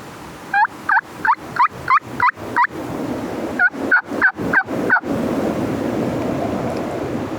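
A wild turkey gobbles in two rapid bursts of sharp, repeated calls, loud and close, followed by steady wind or surf noise.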